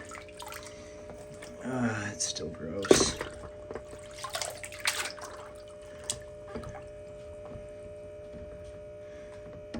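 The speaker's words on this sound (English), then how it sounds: "I'm trying to rinse off this basket the best that I can" A pump basket rinsed by hand in muddy water, with splashing, sloshing and dripping close by under a steady mains hum, while a person talks briefly.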